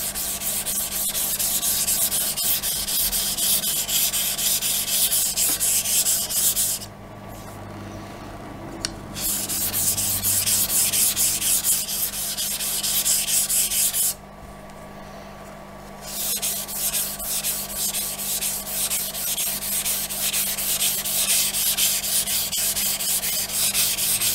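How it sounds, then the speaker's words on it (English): A straight razor blade is honed on a Japanese natural finishing stone, giving a steady, close rasping scrape of continuous strokes that stops briefly twice, with no talking. "You do, however, want to listen for a change in the way the blade is acting on the stone."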